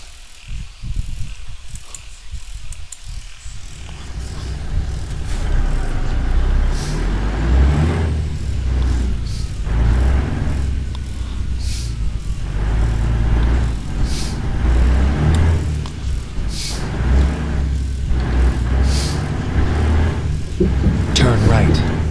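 A truck in American Truck Simulator, just repaired after a crash, starts off with a hiss of air brakes and then drives on with a loud, steady engine drone and shifting rumble.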